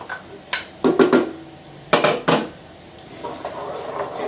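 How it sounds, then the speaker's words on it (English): Cubes of butternut squash tumble into a sauté pan in several distinct clattering bursts, followed by a faint, steady sizzle with no talking. "we're going to go ahead and add our butternut squash here"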